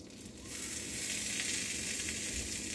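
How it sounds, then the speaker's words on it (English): A steady, hissing sizzle of a wet spatula on a hot greasy pan while making French toast, starting softer and swelling after a moment, then holding constant and close. "It's sizzling because it's wet."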